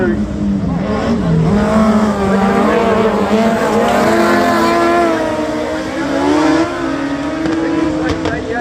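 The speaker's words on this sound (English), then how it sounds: "Make a much better start of it this time in race number 2." Speedway race cars roar around a track on opening night, engines droning loud and continuous with shifting revs and some tire noise, while a commentator talks over the action.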